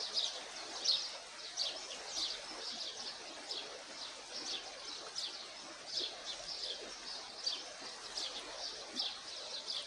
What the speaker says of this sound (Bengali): আর বিভিন্ন পাখির কিচির মিচির।